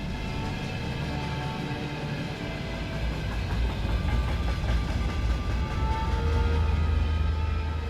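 A Trans-Siberian train runs on the rails across Russia, a steady loud rumbling roar with faint rhythmic clatter of wheels, continuous and close.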